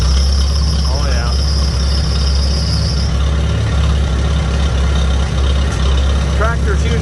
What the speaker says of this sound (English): Tractor's usually money at startup